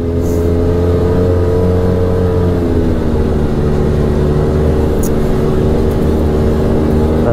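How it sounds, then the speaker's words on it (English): An Arctic Cat Wildcat Trail XT side-by-side engine drones loudly and steadily from inside the cab, with a strong low harmonic hum that shifts pitch slightly as the throttle changes, heard alone without talk. "it's kind of a very loud engine"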